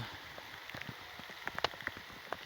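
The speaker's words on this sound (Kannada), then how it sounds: "ಮಳೆ ಶುರುವಾಗಿದೆ" Monsoon rain falls on a trek through the Western Ghats in Goa, a soft steady patter with distinct drops tapping nearby surfaces.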